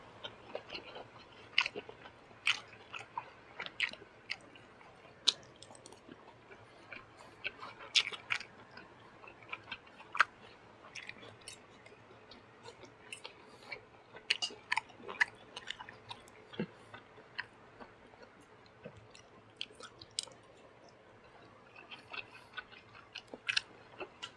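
Close, crunchy chewing of a large tray of crispy pork basil stir-fry with rice, steady irregular bites and crunches throughout with no talking.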